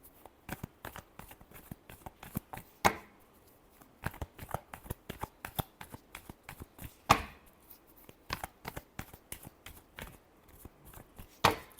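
Tarot cards being shuffled by hand, a steady run of crisp riffling snaps and slaps with a few louder flicks, close up and with no voices.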